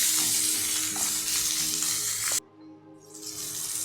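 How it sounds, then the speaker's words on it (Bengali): Pointed gourd fries loudly in hot oil with salt and turmeric, a bright continuous sizzle with stirring, abruptly dropping away then resuming more quietly, no talking. "একটু লবণ দিয়ে দিলাম আর একটু হলুদ দিয়ে দিলাম, দিয়ে পটলটাকে সুন্দর করে ভেজে নিই,"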